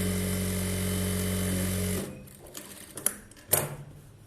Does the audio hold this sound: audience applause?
no